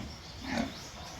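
Single low pig grunt from piglets in a pen, brief and moderately close with steady background noise.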